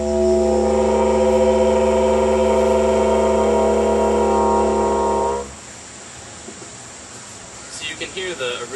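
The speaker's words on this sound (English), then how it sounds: "This is a simple drone with a high-pitched tone." A didgeridoo drone with a vocalized high-pitched tone layered over it holds steady and full for about five seconds, then drops away into quieter breathy noise, with brief faint high tones near the end.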